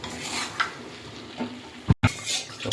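Thin mutton curry moved into a pressure cooker and starting to boil, with a steady sizzling simmer and a few stirring scrapes of a utensil against the pot, plus a sharp clatter near the end.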